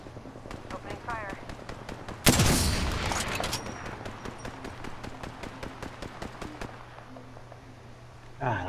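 Rapid bursts of automatic gunfire crackle through a firefight in Apex Legends, with steady repeated shots, a loud blast-like burst in the middle, and a voice talking over parts of the exchange.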